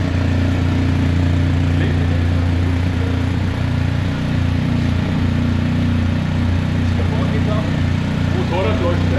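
A motorcycle engine runs steadily at close range, a loud, constant low hum and rumble that holds without pause.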